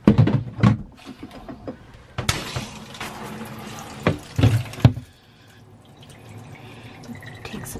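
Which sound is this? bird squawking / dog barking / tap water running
tap water running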